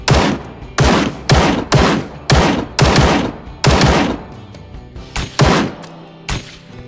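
Gunfire in the PC battle royale game Ring of Elysium comes as about a dozen loud, sharp shots in irregular bursts, each with a short decaying tail, close and with no talk over them.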